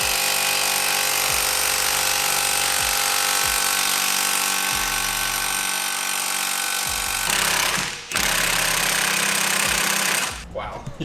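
A half-inch impact wrench hammers on a stuck bolt on an old car, giving a loud, sustained rattling burst broken by a brief pause and a second burst, with a voice speaking partway through.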